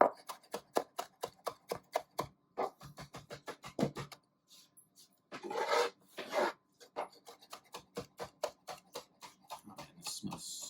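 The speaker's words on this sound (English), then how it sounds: "you're shaving some cheese in there" Cheese being shaved over focaccia topped with oven-roasted tomatoes, heard as close, quick rhythmic rasping strokes in steady bursts, with a short pause near the middle before the scraping resumes.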